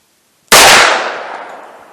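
A single sharp .45 ACP +P Liberty Civil Defense pistol shot, a loud close crack with a booming tail that rings out and slowly decays over more than a second, with no talk around it.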